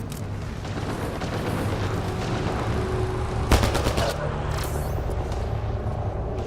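Enemy gunfire in Mass Effect Andromeda crackles as dense, continuous shooting over a rumbling battle bed, with a sharper burst of rapid shots in the middle and voices talking through the fight.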